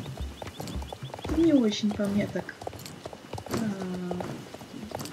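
Hooves of a Jorvik wild horse, a draft-type breed in the Star Stable Online video game, trotting in a light rhythmic clip-clop beneath someone speaking, with a couple of whinny-like sounds mixed in.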